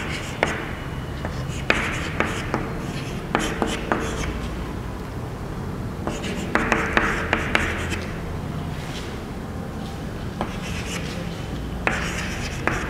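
Pen scratching on paper as geometry working is written out, repeated short strokes and taps in irregular bursts, close and fairly clear with faint room noise.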